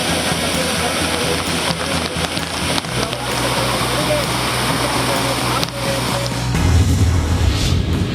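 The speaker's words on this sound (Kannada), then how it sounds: "ಬೆಳಗಾವಿ ಜಿಲ್ಲೆಯ ಖಾನಾಪುರ ತಾಲೂಕಿನ ಚಿಕ್ಕಲೆ ಜಲಪಾತ ಮಳೆಯಲ್ಲಿ ಮಿಂದೆದ್ದಿದೆ. 110 ಅಡಿ ಮೇಲಿಂದ ಧುಮ್ಮಿಕ್ಕಿ ಹರಿಯುತ್ತಿದೆ." Chikhale waterfall in Khanapur taluk, Belagavi district, plunging about 110 feet during heavy rain, makes a steady broadband roar that holds throughout, with a low rumble rising near the end.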